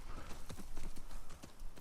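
Quick, rhythmic clip-clop of horse hooves at a steady trot in the video game The Last of Us Part II, close and fairly loud against a busy background.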